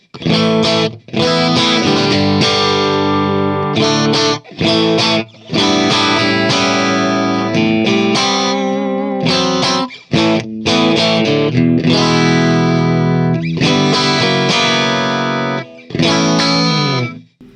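A distorted electric guitar amp through a closed-back 4x12 cabinet plays loud chords and riffs in bursts with short pauses, the tone thick and boxy, with no talking.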